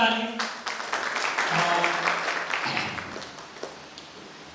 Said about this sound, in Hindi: एक बार विकास सर के लिए जोरदार ताली